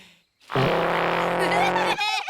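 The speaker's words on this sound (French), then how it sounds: "Et celui-ci, c'est le cacophone à roulette." A cartoon wheeled cacophone, a fictional instrument, lets out a loud, buzzing, blaring drone for about a second and a half, harsh and flatulent in tone, ending with a brief warble.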